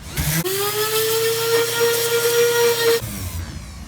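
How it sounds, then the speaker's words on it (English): A steady, high-pitched whining hum from a power sander sanding a metal post, running continuously for a few seconds, close and loud, starting and stopping abruptly. "So let's get on to sanding this down and see what happens."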